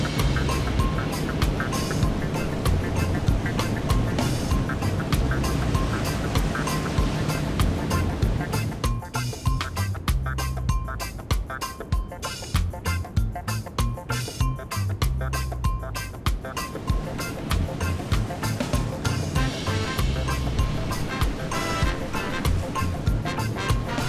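Coast Guard cutter running at full power, 236 RPM on both engines at about 27 knots, off New York: steady engine drone, wind and rushing water with repeated wave slaps and spray throughout.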